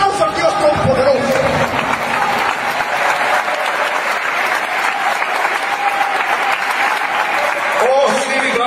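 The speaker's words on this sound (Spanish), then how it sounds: "¡Denle un aplauso a Dios Todopoderoso!" Church congregation applauding loudly at an evangelical Spanish-language service, a dense sustained clatter of clapping with voices and cheers mixed in throughout.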